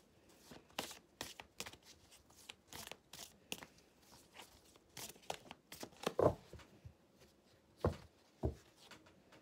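Tarot cards are shuffled and drawn close up in a quiet room, giving a string of soft, papery flicks and riffles in irregular bursts, with a few sharper snaps toward the end.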